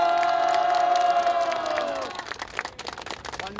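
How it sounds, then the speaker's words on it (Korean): A crowd at an outdoor rally in the rain applauds and cheers, loud shouting voices and whoops first, then the roar settling into scattered clapping and murmuring. "박수와 함성 부탁드리겠습니다."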